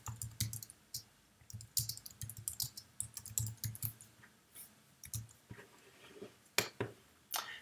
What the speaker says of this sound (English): I'm just going to type that in right now.